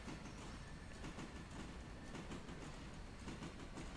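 Heavy freight train rolling steadily along the rails at low speed, a dense continuous rumble with faint rhythmic clatter of wheels on track, close and sustained throughout.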